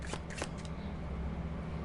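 A tarot deck is shuffled in a quick, crisp riffle of cards near at hand, then settles into quiet.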